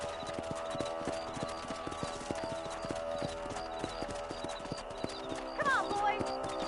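Horses galloping in a cowboy video game, a steady rapid clip-clop of hooves throughout, with a brief whinny near the end and game music underneath.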